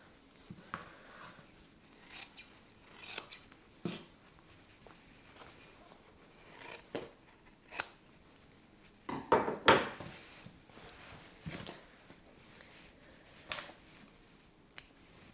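Scissors snip through fabric for a sewn name banner, a series of sparse, close cutting clicks and crunches with soft handling rustles between them and no talking.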